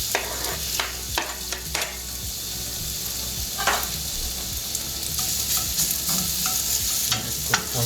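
Chopped onion and tomatoes frying in a pan, a steady bright sizzle with repeated scraping stirs and clinks of a utensil against the pan, close and continuous.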